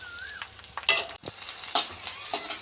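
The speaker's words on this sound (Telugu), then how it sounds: "ఇలా నార్మల్ చట్నీలకి వేయించుకుంటాం కదా, అలా వేయించుకోవాలి." Green chillies frying in a pan for a green mango pickle, a steady light sizzle with scattered stirring scrapes and taps, close and moderately loud, no voices.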